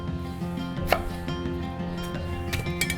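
Rapid knife chopping of onions cut lengthwise on a board, close and crisp, with a few sharper knocks among the steady strokes and no talk.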